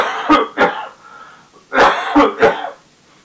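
A man coughs in two short bursts, pauses with faint breathing, then coughs three more times in quick succession, close and fairly loud.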